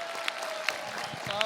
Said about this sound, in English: Please give a big round of applause for James Green.